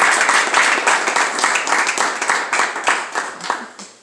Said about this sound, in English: So can you give the CO an applause?